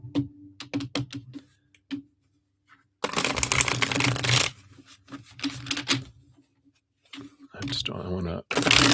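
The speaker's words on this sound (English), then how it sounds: "I'm going to shuffle these up again." A deck of reading cards being shuffled during a live card reading, with quick bursts of riffling and flicking in several runs, separated by pauses and close speech.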